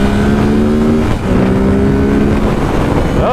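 A 2017 Ducati Supersport motorcycle accelerating hard up an onramp onto the highway, engine droning loud and close with a steady rising pitch, a brief dip as it shifts gear, plus heavy wind rush.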